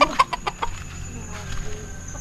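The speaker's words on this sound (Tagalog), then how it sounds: "May manok sila." Village chickens cluck in a short series of sharp, close calls at the start, then fainter scattered clucks follow against a quiet outdoor background.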